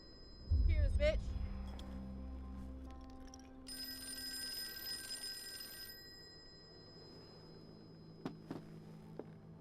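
A telephone in Call of Cthulhu gives a sustained ring for a couple of seconds amid low ambient hum and scattered noises, with a voice talking nearby.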